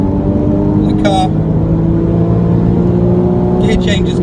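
A 2014 Porsche Boxster S in Sport Plus mode drones steadily from inside the cabin, a loud, sustained engine tone with a couple of brief high chirps over the top.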